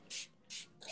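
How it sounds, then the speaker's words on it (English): A small bottle of rose facial spray gives two quick hissing spritzes close to the mic, with the start of a third at the end, in a quiet room. "Wet it a little bit with this rose spray."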